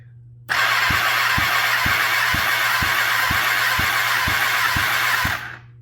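A Kawasaki ZX10R engine cranks over on the starter during a compression test, a loud continuous whirring drone with about ten evenly spaced compression thumps, then it stops abruptly.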